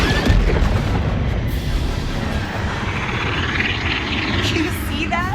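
Heavy booming blasts and rumbling roar of turret fire in the Star Wars Outlaws video game, loud and continuous with low thuds and engine-like rumble throughout.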